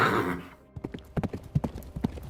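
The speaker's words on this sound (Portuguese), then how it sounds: "Um pequeno rebanho, 11 ou 12, galopando através do campo de batalha." A small herd of about eleven or twelve horses gallops across a battlefield, with a burst of close, irregular hoofbeats after a brief whinny, used as an audiobook effect.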